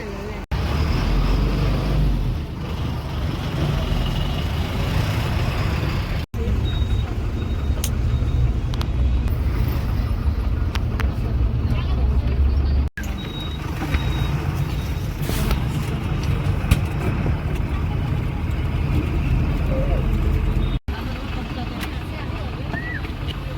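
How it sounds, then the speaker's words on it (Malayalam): Inside a local bus travelling from Bhaktapur to Patan in Nepal: a steady, loud engine and road roar with rattling and wind rush, running continuously with a few brief breaks and faint high squeaks. "നേപ്പാളിലെ ഭക്തപൂർ സിറ്റിയിൽ നിന്ന് ഒരു ലോക്കൽ ബസ്സിൽ അങ്ങനെ പത്താനിലോട്ട് പോകുന്ന ഇതാണ് അവസ്ഥ"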